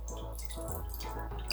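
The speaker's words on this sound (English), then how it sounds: "I actually need to rinse a little bit of this extra salt that was remaining on the fish" Water runs over a fresh salt-cured salmon fillet, a quick rinse to wash off leftover salt, with steady close trickling and small splashy drips throughout.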